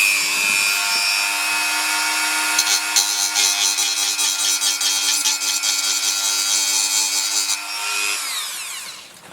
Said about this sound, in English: I'm going to get my Dremel, and while I've got this thing open, I'm going to carve the front of it into a bit of a ramp